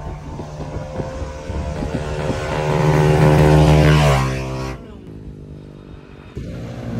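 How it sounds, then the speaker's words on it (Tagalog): Yamaha NMAX V2 scooter with an RS8 CVT setup revs up on a test, the engine climbing to a loud, steady drone, then dropping off sharply to a low idle. "Ito, NMAX version 2, tayo naman testing."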